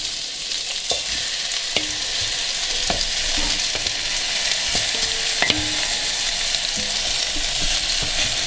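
Rabbit pieces and onions frying in a heavy-bottomed pan for a rabbit and butternut squash curry, a steady close sizzle with scattered crackles and a few soft knocks throughout.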